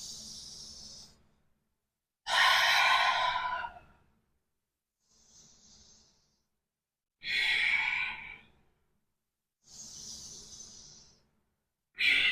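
Deep yoga breath-work during a seated chakra session, alternating slow loud inhales and long sighing exhales, close up, several full cycles with quiet gaps and no speech.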